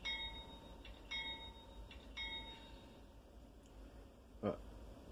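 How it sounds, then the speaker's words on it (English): A model diesel locomotive bell from an ESU LokSound 5 sound decoder in an Atlas Dash 8-40B clangs in a steady, evenly spaced ring, fairly quiet and close, with a small clatter near the end. "There's the bell."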